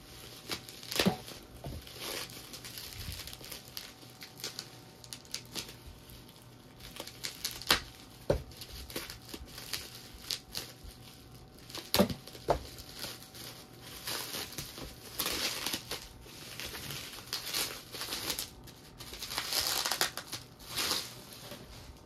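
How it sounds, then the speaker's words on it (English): Tape peeled off a Funko Pop cardboard box with a plastic window: intermittent sharp ripping bursts and crinkling of packaging, some quiet stretches between, close and without speech. "really gotta take the tape on this guy"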